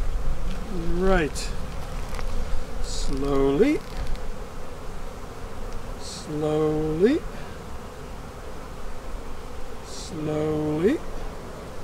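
Honey bees from a backyard hive buzz steadily close by, with a few louder passes rising and falling around the listener while a person speaks briefly and quietly.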